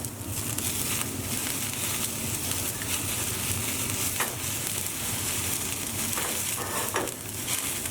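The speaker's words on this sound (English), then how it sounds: "I'm going to brush this with some melted butter." Persian negini kebab sizzling steadily on skewers as melted butter is brushed over it, a close, continuous crackle and hiss with faint scraping touches throughout.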